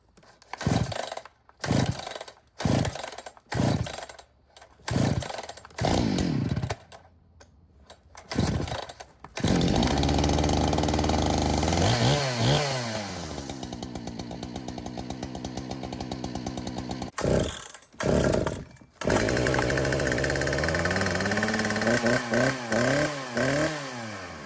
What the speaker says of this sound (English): Let's run these three saws.